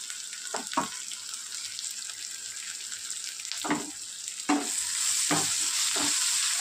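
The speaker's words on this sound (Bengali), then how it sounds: "আদা বাটাটা দিয়ে আমি একটুখানি ভেজে নেবো।" Ginger paste frying with onions in oil, a steady hiss broken by several scraping stirs against the pan, then a louder, fuller sizzle toward the end.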